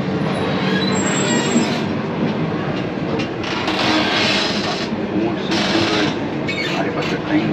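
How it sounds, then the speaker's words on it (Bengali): The Garib Rath Express, the Kolkata–Agartala train, moving along the rails, a loud steady rumble and rattle of wheels heard from inside the carriage, with surges of noise and faint voices in the background. "আমাদের ট্রেন ছেড়ে দিয়েছে"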